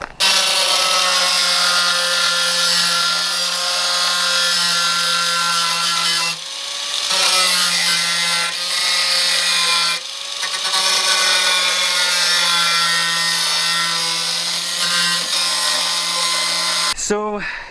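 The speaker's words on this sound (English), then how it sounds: "now he's gonna cut the excess off and I guess weld them another time" A power tool cuts the excess metal off bent over-fender pieces on a Datsun 280ZX widebody build, a loud, continuous high-pitched whine that dips briefly twice and runs nearly the whole length.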